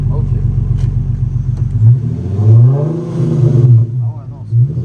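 Hybrid car fitted with a Nissan 350Z engine revving hard against the limiter, a loud, close, strained drone that stutters and rises in pitch, with people talking over it.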